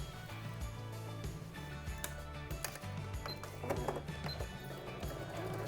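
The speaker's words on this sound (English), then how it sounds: "I'm just going to do some really quick stitches for you just to show the effect once it's quilted" Sewing machine runs a few quick lines of stitching through Bosal mouldable batting: a steady low mechanical hum with rapid ticking needle strokes, close and fairly even, with brief pauses.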